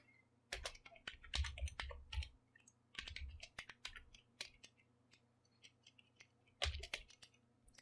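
Keys tapped on a computer keyboard while entering a SQL count function, in quick irregular bursts of close, crisp clicks separated by short pauses.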